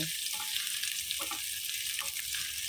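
Gentle sizzling of mussel-dish aromatics sautéing in a pan, a steady frying hiss with a few soft stirring clinks, close and moderately quiet, no talk.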